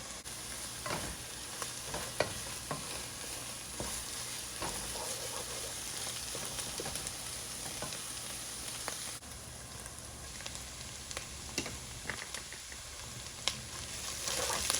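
Onions and garlic frying in a pan for an Ethiopian stew, a continuous close sizzle punctuated by repeated stirring scrapes, without speech.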